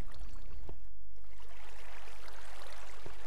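Flowing water runs steadily in the video game Minecraft, a broad, continuous rushing wash that holds the whole stretch alone, with a brief low thump near the start.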